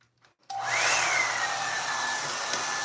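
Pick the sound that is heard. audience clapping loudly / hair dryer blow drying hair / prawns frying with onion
hair dryer blow drying hair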